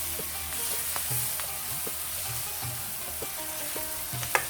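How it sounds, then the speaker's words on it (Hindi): Garlic ginger paste fries in a pan on high flame for a restaurant-style masala bhindi, a constant close sizzle broken by repeated scraping and tapping of a spoon as it is stirred, with a sharper knock near the end. "साथ ही इसमें मैं ये लहसुन अदरक का ये पेस्ट डाल दूंगी। अच्छी तरह से मिक्स करूंगी।"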